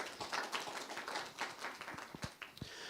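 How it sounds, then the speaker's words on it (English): Audience applauding a community symphony group after a concert, scattered, uneven claps at low level with a few sharper individual claps standing out. "you can clap"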